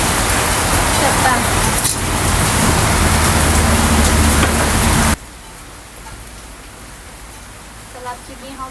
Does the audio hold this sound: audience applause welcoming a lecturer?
no